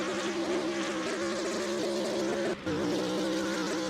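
A GT3 race car engine in a racing video game, at Le Mans, gives a high, buzzing whine that holds steady with layered harmonics, briefly dipping once before resuming, with no talking.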